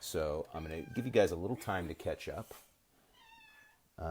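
Someone talks steadily, then after a pause a faint cat meow drifts in from somewhere in the room before his voice resumes.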